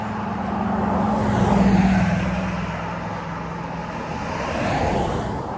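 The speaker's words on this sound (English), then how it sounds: "sorry for the traffic noise." Road traffic rolling past a trail on a fine day, a steady low rumble of vehicles with a louder pass swelling in the middle and another near the end, no talking.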